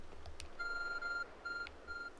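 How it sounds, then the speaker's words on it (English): Two steady electronic beeps from a glowing object in Pokemon Legends: Arceus, each held for under a second with a short gap between, fairly quiet over faint background noise. "There's a glowing beeping object over there."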